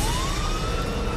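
Police car siren on a patrol vehicle chasing a driver into a residential subdivision, a loud rising wail with a rumbling engine beneath it.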